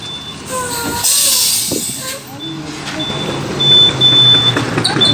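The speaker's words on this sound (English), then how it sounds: "The bus is approaching" A Gautrain bus pulls up at a bus stop with a loud hiss of air brakes, engine rumble and faint beeps, while people talk nearby.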